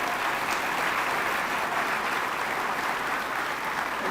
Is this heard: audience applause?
yes